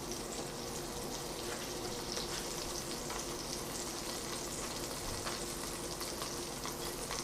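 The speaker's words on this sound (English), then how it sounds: "Now one thing I will say about deep frying is you definitely will have to watch it." Chicken deep frying in hot oil gives a steady, dense crackling sizzle that runs unbroken throughout, fairly close and even in loudness, with no voices.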